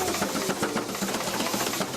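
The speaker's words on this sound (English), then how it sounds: "It's being operated by a steam engine right now." Steam traction engine belted to a sawmill at a steam show, a steady dense mechanical rumble and chuff with rhythmic thumps, continuous and fairly loud throughout, with no voices.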